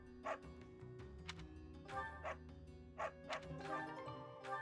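A dog barking in the video game Fire Emblem Three Houses, a handful of short woofs spaced irregularly over steady background music, fairly clear and close.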